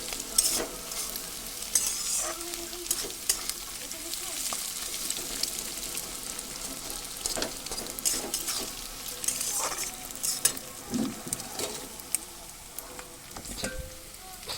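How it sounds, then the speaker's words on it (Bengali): Eggs are stir-fried in a pan while chowmein is being made, giving a continuous soft sizzle with frequent scraping and clicking stirs throughout. "ডিমগুলো একটু নাড়াচাড়া করে নেবো ভাজা ভাজার মতো করে"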